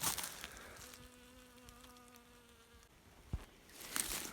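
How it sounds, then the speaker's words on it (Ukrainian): A bee buzzes close by at a log-hive apiary with a steady drone that rises and fades, amid faint outdoor rustling and a couple of soft taps. "Ну, бджоли є, літають, але на ногах пілок."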